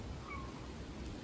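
A stray cat outdoors gives one faint, distant meow, brief and thin against quiet background noise.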